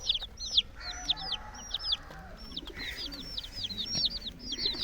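Young colorful chicks being fed millet cheep and cluck in a steady run of high peeps, close and continuous, over low farmyard murmur and occasional deeper fowl calls.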